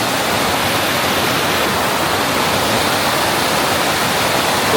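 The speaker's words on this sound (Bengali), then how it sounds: "শীষনাগ পর্বত থেকে যে জল আসছে" Water rushing down from Sheshnag mountain along the Amarnath Yatra route near Chandanwari, Kashmir: a loud, close, unbroken roar of flowing water, steady throughout with no voices.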